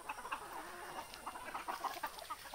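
Desi Sonali chickens cluck on a free-range farm, a steady scatter of soft overlapping clucks and chatter from several birds at moderate distance, with no talking.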